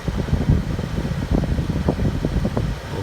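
An air conditioning unit runs at about 1200 RPM with a loud, steady fan whoosh and rumbling airflow, close and continuous, no talking.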